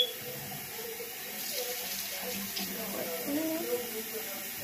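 Water runs steadily from a tap into a sink, with quiet voices and small splashes over the flow.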